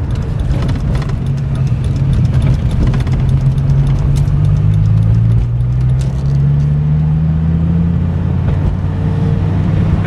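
A salvage 2003 Dodge Viper SRT-10 on a test drive, its engine giving a loud, continuous low rumble with tones that rise and fall as it accelerates, heard from close by for about ten seconds.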